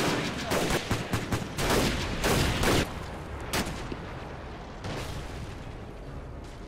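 Loud bursts of gunfire and explosive blasts from a shooting game, dense rapid shots in the first few seconds, then sparser single cracks and booms over a rumbling background.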